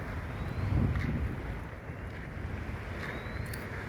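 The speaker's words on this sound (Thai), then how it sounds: "ลมมัน มาทางเหนือนะครับ" Wind blows steadily across a riverside beach on the Mekong, producing a constant broad rush of buffeting noise on the microphone with no clear breaks.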